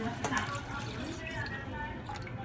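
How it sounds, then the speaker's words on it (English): Water poured from a cup into a pot of yellow rice with pink beans, a steady close trickling and dripping that runs through the whole stretch over low kitchen background noise. "So now I'm gonna add a cup and a half of water."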